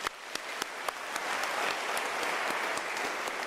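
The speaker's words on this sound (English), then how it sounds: "I wish for us to give her a round of applause." Applause from a graduation ceremony audience, a broad steady wash of clapping that builds slightly and holds, with a few sharper individual claps standing out near the start.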